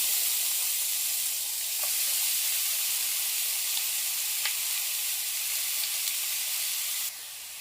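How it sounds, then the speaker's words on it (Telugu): Chopped onions frying in a pan give a steady, loud sizzle with faint hiss and occasional crackles, continuous throughout with no talking. "సో ఇప్పుడు చిన్నగా తరిగిన ఆనియన్స్ అయితే యాడ్ చేస్తున్నా."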